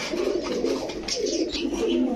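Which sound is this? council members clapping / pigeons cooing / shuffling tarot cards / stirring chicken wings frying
pigeons cooing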